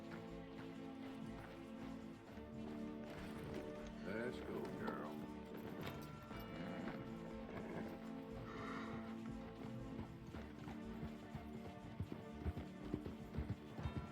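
Hooves clip-clop in a rapid, steady gallop throughout in the video game Red Dead Redemption II, with occasional whinnies and a music bed, while a player talks over the top.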